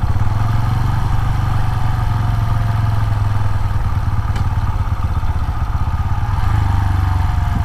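A Bajaj Pulsar N125 engine with ISG auto start-stop runs at a steady idle, a loud, close, low mechanical thrum with light clatter that continues evenly without cutting out.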